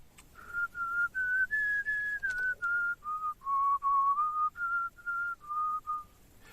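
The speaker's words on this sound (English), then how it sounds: "And this whistling melody can no longer be assigned to the voice in some people." A clear, close whistled melody of sustained pitched notes, forming the hidden tune of an auditory illusion, moves in short phrases with brief gaps, rising and falling gently and heard alone.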